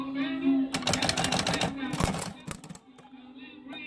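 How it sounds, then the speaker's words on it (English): Rapid clacking keystrokes from a 1930s mechanical typewriter, a dense burst of close, loud strikes with a few slower taps trailing off, over a steady low hum and a voice. "you may be noticing I'm typing fairly slow"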